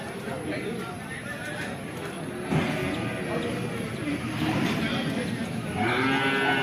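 Buffalo at a busy open-air livestock market, with animal calls and movement sounding from nearby amid constant crowd chatter and people talking close by.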